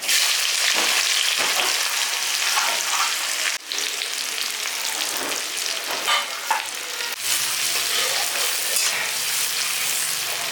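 Loud, steady sizzling of chopped onion frying in hot oil for an aloo paratha masala, with occasional stirring scrapes throughout and no talk.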